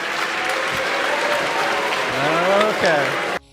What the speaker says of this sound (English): the crowd seemed to agree with him as they were cheering and clapping